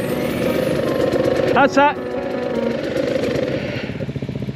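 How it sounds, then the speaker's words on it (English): A 300 motorcycle engine idles steadily and close, with a brief rise in revs as the clutch is let out, then settles back into a rough, throbbing idle while a person talks. "You're gonna have to give it some revs and let the clutch out and go."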